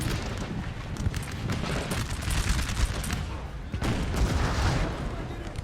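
Artillery and massed musket volleys roar in a Napoleon Total War siege battle, a continuous crackling fusillade with heavy booms, loud and dense throughout.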